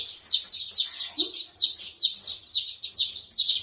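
Baby chicks peeping continuously in high, rapid chirps close by, a steady overlapping chorus with a faint low thump partway through.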